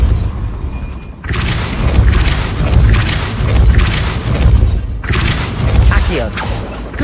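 Depulso spell effect in the Hogwarts Legacy video game, heavy booming impacts and crashing thuds in repeated loud bursts over a dense rumbling background, with a voice speaking amid the effects.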